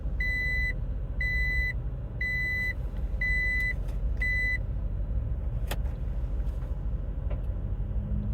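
Five evenly spaced reverse warning beeps sound from a 2023 Toyota Tacoma TRD Off-Road as it is shifted into reverse, followed by a few light clicks over a steady low idle rumble.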